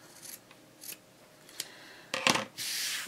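Scissors trim the corners of fabric for beginner patchwork coasters, giving several crisp, close snips and a brief rustle of the cloth.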